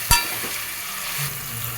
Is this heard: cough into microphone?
no